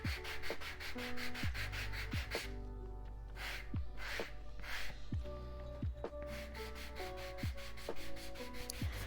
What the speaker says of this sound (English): it's not a lot of burnishing or sanding that needs to be done.